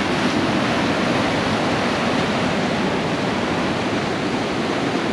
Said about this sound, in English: The water can suddenly go from a regular wave to a bigger, much bigger wave